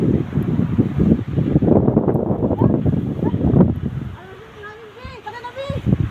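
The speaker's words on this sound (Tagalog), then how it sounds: "Grabe ang hangin," Strong gale and blizzard wind on a snowy day in Maine, gusting and buffeting close against the microphone, loud at first and easing later, while people talk over it.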